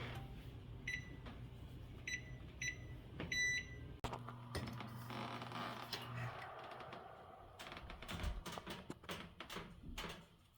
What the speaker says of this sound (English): And I will set my timer for 35 minutes.